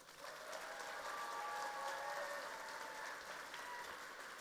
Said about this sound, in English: So let's give the panelists a big round of applause.